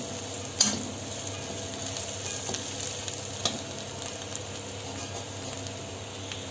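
Coarsely ground roasted peanuts frying with spices in a pan make a soft, continuous sizzle, broken by a ladle knock early on and a few faint scrapes.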